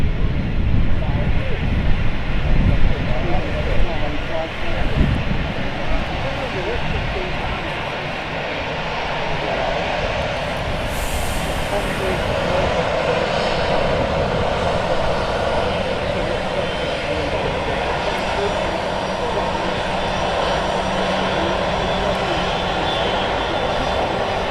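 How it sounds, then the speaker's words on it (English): A classic Airbus A320 with CFM56 engines taxiing at Manchester Airport, a continuous loud engine roar and hiss with wind buffeting, steady throughout and heard outdoors from fairly close. "A320 just turning onto the active"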